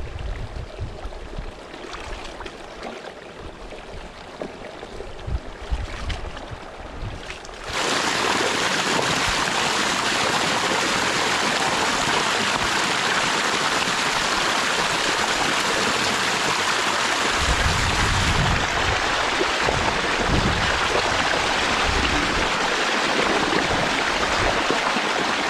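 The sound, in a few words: water flowing as a field is drained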